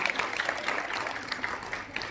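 An audience at an SPDM diamond programme event in Kondagaon claps in a faint, distant, continuous patter of applause lasting the whole moment.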